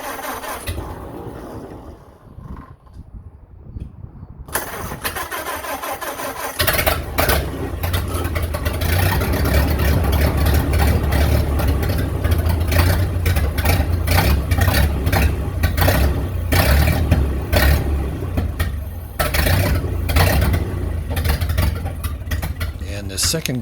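Old flathead motor from a barn find cranking after a quiet start, then catching and running with a rough, steady loud idle and occasional revs, voices speaking over it.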